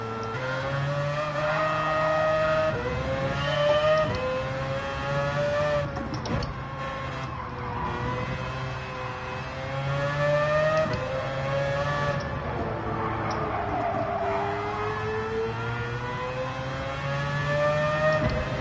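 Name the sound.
race car engine in Gran Turismo 7, a video game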